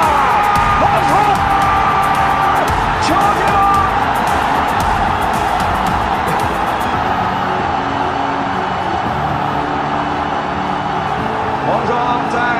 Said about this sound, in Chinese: 王霜在聆听的现场，这一年多没有听到的喝彩声